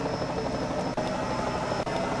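A helicopter hovers over the Indianapolis race track, its rotor and engine making a loud, steady wash of noise that fills the whole stretch with no voices.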